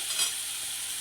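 Spices for palak dal khichdi sizzle in hot oil, a continuous bright hiss with a slight swell near the start, close and steady with no talking.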